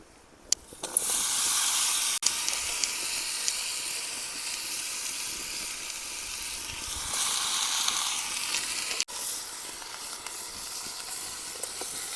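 Fenugreek drops into a small hot kadhai with a sharp burst of sizzling, then a steady loud hiss of frying that carries on with a few faint clinks and no talking.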